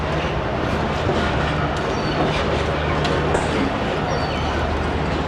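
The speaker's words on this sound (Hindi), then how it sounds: "दोस्तों झेलम रेलवे स्टेशन से रवाना होते हुए" Train pulling out of Jhelum railway station on the Tezgam with an old AC sleeper coach, a steady broad rumble of wheels and carriage noise with faint clicking throughout, no voices.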